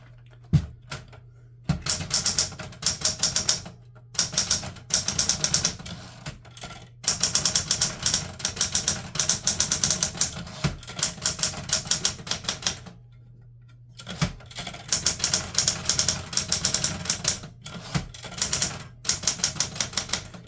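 A Smith Corona Super Sterling portable typewriter from the 1960s–70s is typed on at close range, bursts of rapid mechanical key strikes separated by short pauses and carriage returns.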